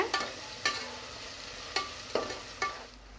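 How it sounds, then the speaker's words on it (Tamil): Green chillies sauté in a pan with a low background sizzle, broken by a handful of sharp scraping stirs at irregular intervals, fairly quiet and with no voices. "பச்சை மிளகா சேர்த்து வதக்கிக்கலாங்க."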